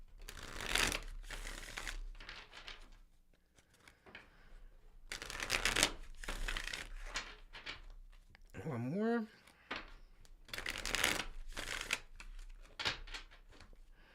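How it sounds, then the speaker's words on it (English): Tarot cards shuffled in several close, crisp riffling bursts, with a voice talking between them and a brief whistle-like tone in the middle. "Do a little shuffle."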